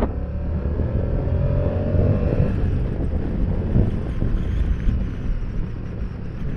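A Moto Guzzi Stelvio motorcycle engine roars steadily at high revs above 6500 rpm, loud and close, with a rising tone early on and buffeting wind noise throughout.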